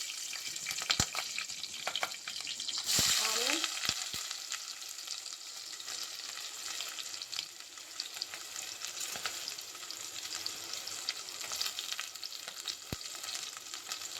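Cumin seeds and chopped green chillies fry in hot oil for an ivy gourd and tomato curry, a continuous soft sizzle broken by a few sharp clicks and a brief louder spatter near the start.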